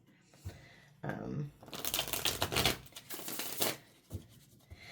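A soft, worn tarot deck with a lotus mandala on the cover is shuffled nearby in a dense riffling burst of papery flicks, followed by a few lighter taps.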